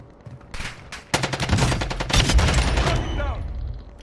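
Rapid video game gunfire, bursts of automatic shots crackling close and loud in a tight rhythmic volley, with a brief earlier shot and the firing tapering off at the end.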